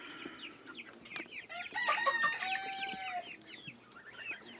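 A rooster crows once in the middle while chickens cluck intermittently around it, close by in a farmyard setting with no talk.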